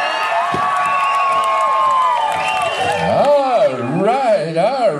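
A pow wow crowd cheers and whoops loudly for a switch dancer, voices blending into a steady roar with rising and falling yells near the end.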